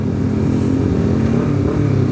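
A Honda CBR250RR motorcycle fitted with a Nassert Beet EVO 2 exhaust and dB killer idles or runs steadily, giving a low, even burble close by and at a fairly loud level, with no talk.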